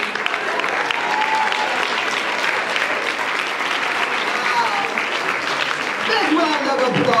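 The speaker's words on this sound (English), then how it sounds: "Big round of applause." Steady, dense applause from an audience at a panel discussion keeps up at an even, loud level throughout with little variation.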